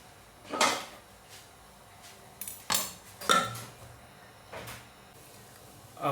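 A lid settles onto a cooking pot of chicken curry with several sharp metallic clanks and rattles, spaced irregularly over a few seconds against a quiet kitchen background.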